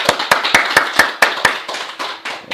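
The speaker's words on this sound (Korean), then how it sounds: "박수 한번 드리겠습니다." A church congregation breaks into applause, with a clear run of sharp hand claps arriving in a quick, fairly even rhythm at close range and then thinning into a looser patter near the end.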